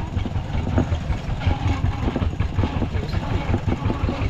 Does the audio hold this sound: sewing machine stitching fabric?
no